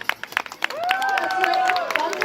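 Aquarium show audience clapping for the performing animals, scattered sharp claps and crowd noise with a whistle-like tone and an announcer's voice over it.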